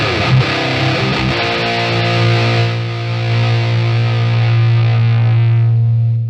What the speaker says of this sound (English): But he has updated EVOampLite and it sounds like a lot different now. And this is a great amp, a lot more mid-forward than the block.